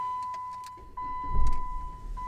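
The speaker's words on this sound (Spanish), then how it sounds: "Ahora arrancamos lo que es el carro." 2007 Jeep Compass cranks over and fires up, a short starter whir followed by the engine catching and settling, heard up close with a steady electronic tone running beneath.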